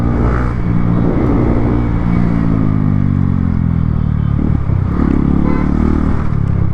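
A motorcycle engine pulls hard at about 50 while overtaking on an empty road, its rising drone steady and loud close to the rider, with a brief clatter midway.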